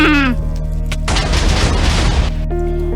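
A loud, close explosion in a Five Nights at Freddy's themed story, a broad roaring burst lasting over a second that cuts through steady tonal background sounds and then quickly falls away.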